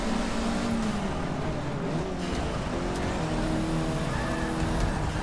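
Formula 1 car in the racing game Forza Motorsport 6, its high-pitched engine whining and shifting continuously and loudly throughout, with faint tire noise and no talk.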